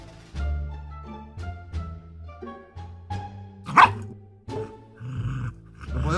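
A dog barks repeatedly in short bursts mixed with low growls, close and loud, with one sharper yelp near the middle.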